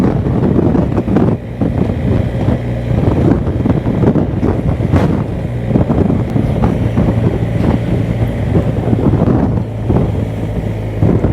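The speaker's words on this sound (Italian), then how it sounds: "il vento oggi è veramente forte." Heavy wind buffets the microphone continuously, a loud low rumbling roar with gusty fluctuations throughout and no speech, on a motorcycle ride near Pigna in Corsica.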